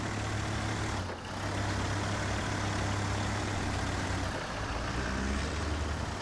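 A truck engine in the SnowRunner off-road game runs steadily with a heavy, low rumble and a dense mechanical roar, dipping briefly near the start and again later before settling back to a constant, loud drone.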